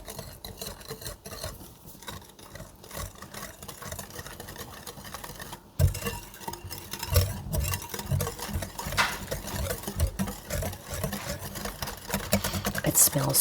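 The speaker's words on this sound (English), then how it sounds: "I'm going to give that a whisk until that's nicely combined" Yogurt and vanilla are whisked into applesauce quick bread batter with a quick, steady scraping and clicking of the whisk against a bowl. The strokes grow louder and more vigorous partway through.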